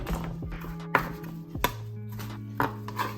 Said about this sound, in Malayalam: ചെറിയ കഷ്ണം ഇഞ്ചി, അതൊന്ന് ചെറുതായിട്ട് അരിഞ്ഞിട്ട് നമുക്ക് ഇങ്ങനെ വെച്ച് നന്നായിട്ട് അരിഞ്ഞിട്ട്